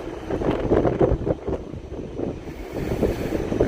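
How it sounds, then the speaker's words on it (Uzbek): Gusty wind buffets the microphone in rough, rumbling bursts, steady and loud throughout with no voices. "Sovuq shabada."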